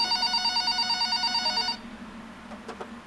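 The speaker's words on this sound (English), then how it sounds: "the phone on the counter rang." A telephone bell rings in an animation, a loud repeating electronic trill of rapid pulses that stops abruptly partway through, leaving faint room noise with a couple of soft thuds.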